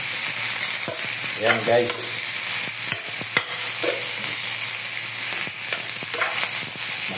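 Squash and string beans sizzle while being sautéed in a pan, a steady loud fry with several clattering scrapes and stirs of a utensil; a voice speaks briefly near the end.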